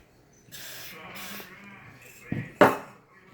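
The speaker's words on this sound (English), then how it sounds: "I stick it in here and I spray every rotating point" Two short sharp hisses of aerosol lubricant sprayed into a car door lock mechanism, close by, after a quieter stretch of faint handling noise.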